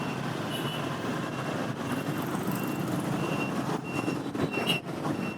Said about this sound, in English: Lots and lots of traffic.